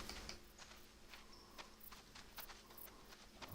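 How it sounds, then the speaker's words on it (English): Animal footsteps close by in the hunting game theHunter: Call of the Wild: soft, irregular padding steps over quiet ambient noise, ending in a sudden louder thump. "You can hear the little pitter-patter of his footsteps"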